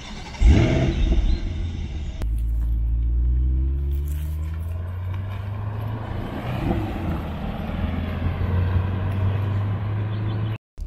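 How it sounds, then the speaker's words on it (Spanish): A Chevrolet Corvette C8 Stingray engine cranks and fires up with a sharp burst, then settles into a loud, deep, steady rumbling idle up close, cutting off abruptly near the end. "¿Quieren escuchar cómo suena su motor?"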